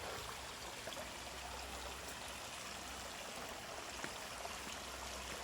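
Water rushes steadily in a constant, broadband hiss, like a stream tumbling over rocks, unbroken and moderately distant, at Huai Chan Waterfall in Khun Han District, Sisaket Province, Thailand.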